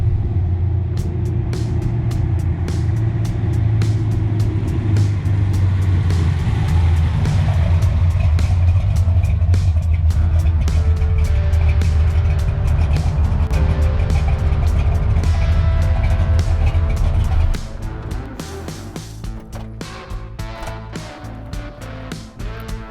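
A big 1968 Chevrolet Camaro SS engine rumbles deeply and steadily while the car drives, loud and close with clattering; the rumble drops off sharply near the end.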